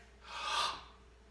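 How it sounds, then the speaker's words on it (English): A single deep breath drawn in through the mouth before a back squat, a soft rushing inhale swelling and fading within about a second, close and alone. "I take a deep breath in"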